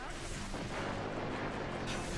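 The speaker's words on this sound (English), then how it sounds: "Super explosion." A large, loud explosion from the video game Naruto Shippuden Ultimate Ninja Storm Revolution, a dense continuous blast and rumble lasting about two seconds, heard alone without talk.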